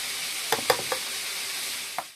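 Chicken pieces frying lightly in oil after a spiced water and curd step, a soft steady sizzle with a few brief stirring clatters, close and fairly quiet.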